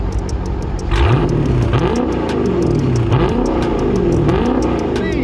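A Dodge Charger Daytona 392 Scat Pack revs repeatedly and loudly close by through its active exhaust, each throttle blip rising and falling in pitch over a steady idle rumble.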